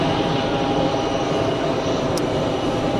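Aircraft on final approach at Geneva Airport, a steady, continuous engine rumble and hiss at moderate level throughout, without talk.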